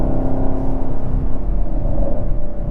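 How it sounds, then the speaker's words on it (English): A 2020 Chevrolet Camaro SS Hertz Edition rental car's V8 engine rumbles and whirs steadily as the automatic gearbox drops gears under hard driving, heard close from inside the car with no talk. "Like how it keeps downshifting,"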